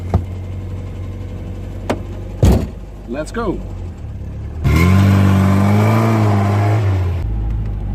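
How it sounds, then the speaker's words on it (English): A Triumph Spitfire 1500's small engine idles, then revs up loudly and holds a high, buzzing roar near the end; a voice calls out briefly before the revving. "Had you really expected that this little engine makes such a lovely sound?"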